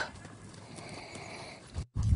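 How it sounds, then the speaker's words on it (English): A horse in complete tack canters on a lunge line, its hoofbeats soft and muffled under a steady wash of outdoor noise, ending with a heavy thump close by. "So I had to use a bit of an encouragement there to get him to move off into the canter."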